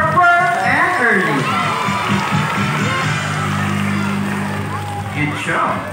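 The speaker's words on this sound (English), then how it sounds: "have a big round of applause for Pearl and Early" A marine park crowd at a sea lion show reacts for sea lions Pearl and Early with cheering, children's shouts and scattered clapping, loud and lively under an amplified presenter's voice.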